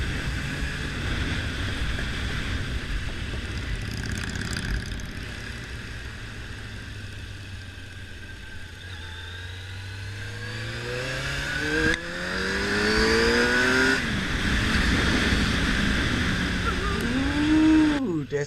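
A 2003 Suzuki GSX-R 750 sportbike being ridden, its engine rising and falling through several revving pulls with clear pitch sweeps, under steady wind noise, with a voice speaking at times.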